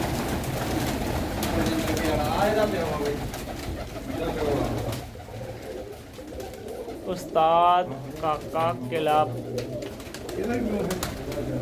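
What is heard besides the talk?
pigeons cooing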